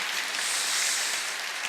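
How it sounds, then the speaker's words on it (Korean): A church congregation applauds its choir, a dense, even wash of clapping that holds steady for the whole stretch, with no voices over it. "우리 한번 성가대분들 위해서 박수 한번 해주시기 바랍니다"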